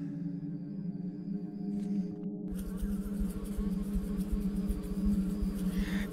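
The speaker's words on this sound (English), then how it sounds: "Not the bees!" Bees buzz in the video game Stasis, a steady droning hum that cuts in sharply and holds loud over a low synthetic background.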